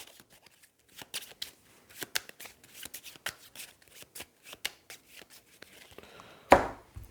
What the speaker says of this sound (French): je vais remélanger toutes les cartes de mes personnages.